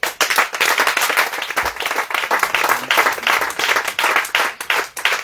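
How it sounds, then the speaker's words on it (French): A church congregation claps loudly and steadily, a dense wash of applause mixed with cheering voices that continues throughout. "acclame le Seigneur Jésus"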